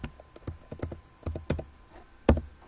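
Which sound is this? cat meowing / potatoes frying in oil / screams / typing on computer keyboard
typing on computer keyboard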